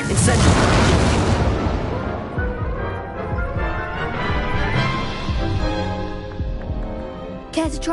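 Incendio fire spell cast in Hogwarts Legacy: a loud fiery burst and whoosh at the start, fading into rumbling magical crackle and background game noise, ending with a sharp short flare.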